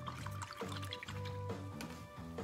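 A paintbrush rinsed in a cup of water, with soft sloshing and dripping in repeated strokes close by, quiet and with no voices.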